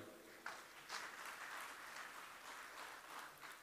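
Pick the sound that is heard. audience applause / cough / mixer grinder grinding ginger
audience applause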